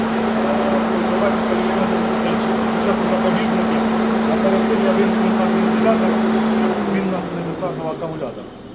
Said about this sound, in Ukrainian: Вентилятор зараз працює.